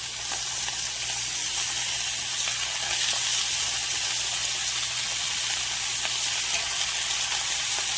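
Stuffed French toast sizzles steadily in a hot pan, a constant bright frying hiss running unbroken and fairly loud throughout with no voices.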